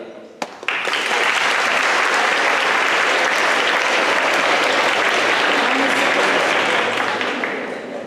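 Delegates at a Model United Nations opening ceremony in Bilbao burst into loud, dense applause after an ambassador's speech, a sustained roar of clapping that swells quickly and tapers slightly at the close.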